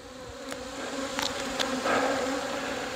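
Honey bees drone in a steady, dense buzz during a hive inspection, close and continuous, with a few sharper passes of individual bees rising briefly above the swarm.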